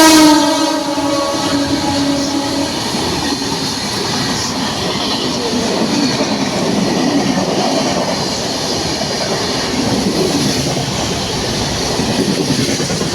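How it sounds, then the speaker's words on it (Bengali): A train pulling into platform 1 of a station, a loud continuous rumble of wheels and cars with some early tonal horn or squeal, filling the whole clip close by. "ট্রেনের অ্যানাউন্সমেন্ট হয়ে গেছে, ট্রেন 1 নম্বরেই আসছে।"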